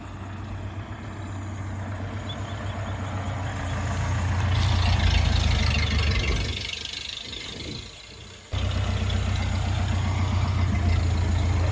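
A car arrives and drives up outdoors, its engine rumble swelling as it nears, dropping away briefly, then settling into a steady close idle with faint voices in the background.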